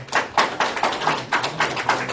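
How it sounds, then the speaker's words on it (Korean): An audience at a Korean religious training lecture claps in tribute, giving a short run of sharp, rhythmic claps that land in a fairly regular beat over a couple of seconds with no speech. "정말 한학자 총재님께 또 박수 한번 부탁드리겠습니다"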